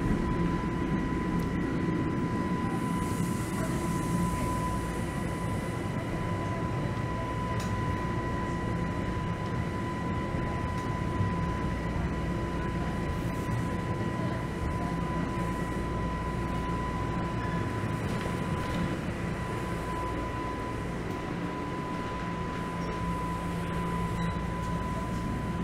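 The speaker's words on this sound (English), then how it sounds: "And you will notice the total lack of urgency this train is taking." A Toronto subway train creeps along slowly late at night, a steady, loud low rumble with a constant hum and a faint high whine, unbroken for the whole stretch with no voices.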